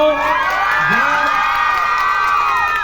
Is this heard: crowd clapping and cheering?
yes